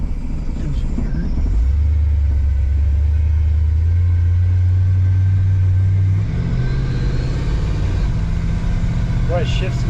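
A 1969 Chevy van with an uninsulated engine and a three-speed transmission drives along. Its loud, steady engine rumble fills the whole stretch, with a change in pitch partway through as it shifts. Voices may be present under the noise.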